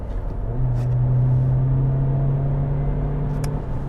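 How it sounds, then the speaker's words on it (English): A 2019–2020 Toyota C-HR with an Intelligent Manual Transmission that rev-matches gives a loud in-cabin engine drone whose held tone rises slightly, then fades, over low road rumble. "IMT stands for Intelligent Manual Transmission, which is basically a rev matching system."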